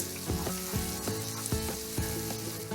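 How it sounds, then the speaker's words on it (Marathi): Coarsely crushed green chilli thecha with a few curry leaves frying in hot oil for a dry radish bhaji, giving a steady close sizzle under faint recurring tonal notes. "जाडसर वाटून घेतलेला मिरचीचा ठेचा. तेलावर थोडा परतवून घ्यायचा."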